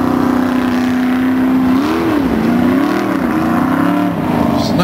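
A Formula Offroad race car engine at Björnhult in 2007 revs loud and close, its steady roar rising and falling in pitch over several seconds with no talk.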